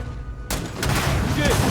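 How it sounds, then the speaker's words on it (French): A loud burst erupts at about half a second in Starfield, a sudden explosion and rumble followed by sustained noisy crackle and debris, with a voice speaking over the tail. "il y a un truc qui explose"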